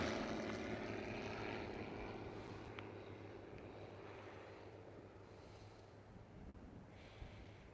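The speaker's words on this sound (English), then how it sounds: "Look at that twin engine right there." A twin-engine private jet passing overhead makes a broad, rushing engine roar that slowly fades, mixed with wind buffeting the microphone.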